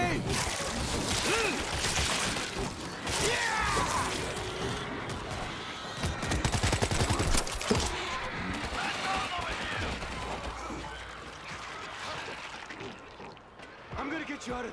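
Gunfire in the World War Z video game, with dense bursts of rapid shooting and explosive crackle running throughout, mixed with shouting voices and game noise.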